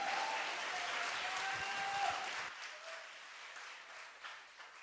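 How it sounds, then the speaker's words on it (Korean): A church congregation applauds to welcome the guest pastor at a Friday late-night prayer meeting, with steady, dense clapping that fills the first half before thinning into a softer, scattered patter. "우리 박수로 오른손 들고 할렐루야로 맞이하겠습니다"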